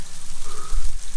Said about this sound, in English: It's like hailing out here.